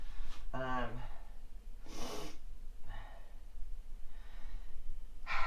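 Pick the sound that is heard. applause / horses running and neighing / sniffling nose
sniffling nose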